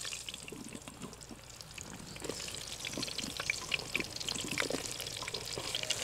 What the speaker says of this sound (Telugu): ఒక నిమిషం వీటిని బాగా ఇలా వేయించుకోవాలండి